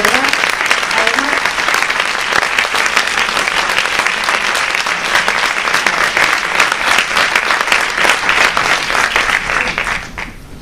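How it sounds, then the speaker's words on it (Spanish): An audience at a documentary screening in Valencia breaks into loud, sustained applause, dense clapping that runs unbroken for about ten seconds before tapering off at the end. "Aplaudidle"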